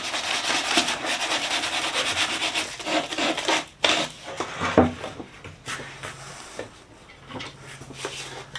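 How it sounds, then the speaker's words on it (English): Sandpaper rubs and rounds off the sides of a wooden candle holder by hand. Close, dry, rasping strokes repeat in quick succession, with a brief knock midway and no talking. "I take a little bit of sandpaper and then I just kind of sand the sides here, kind of round it off"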